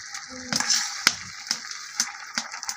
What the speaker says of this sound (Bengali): তারপর আমি পানি দিয়ে দিই।